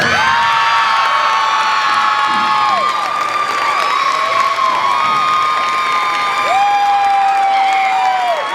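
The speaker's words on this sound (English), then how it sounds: "big round of applause for your top 5 finishers" A large crowd at a CrossFit regional competition cheers and applauds continuously, with whoops and shrill whistles rising above the steady roar.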